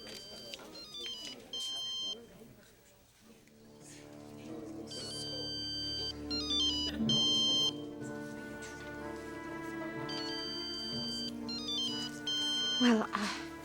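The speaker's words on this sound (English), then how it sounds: "That sounds like Mom's cell phone." A cell phone's melodic ringtone plays in repeated bursts through an indoor scene, with people talking over and between the rings.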